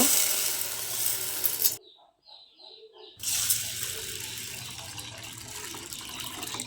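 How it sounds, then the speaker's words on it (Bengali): Water poured over red lentils (masoor dal) in a bowl to soak them for khichuri, a close, steady rushing stream that stops briefly, then resumes as a continuous splashing fill. "এখন আমি ডাউলটাকে ভিজিয়ে নিব"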